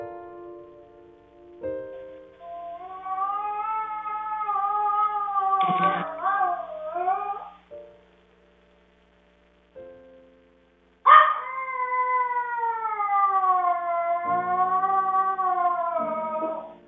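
An abused dog left alone indoors cries in long wavering, cat-like wails and whimpers, loud and close, in two extended bouts with a short silent pause between them.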